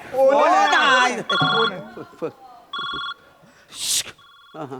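A voice talks briefly, then a phone rings in short repeated electronic bursts, loud and close, with a few quiet sounds between rings.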